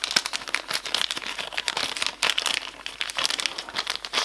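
Crinkly wrapping from a package of diamond painting kits being opened, a steady, close run of crumpling and crackling plastic with dense bursts throughout and no talking.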